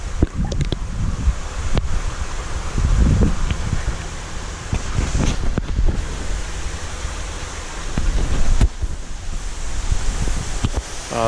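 Water from seven running pipes pours through an aqueduct into a shower-tower filter system, a loud continuous rushing wash close by with occasional knocks and gusty surges.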